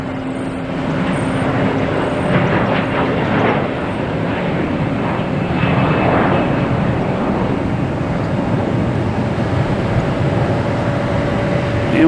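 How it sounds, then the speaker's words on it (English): A Delta airliner taking off at Boston Logan Airport, its jet engine roar a broad, steady rumble heard from a distance throughout, with no voices. "we have a Delta taking off, heading to Richmond"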